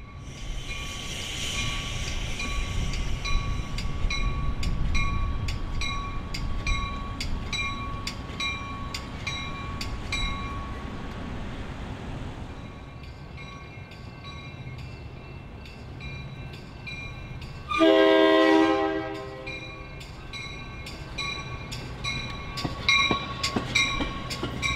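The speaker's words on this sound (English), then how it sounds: "the train I thought the last one was going to be showed up to make their stop" A Metra commuter train on the BNSF line arrives with a loud rumble and the clatter of railcars, followed by a rising high-pitched squeal of brakes or a horn blast and the lighter rolling of wheels.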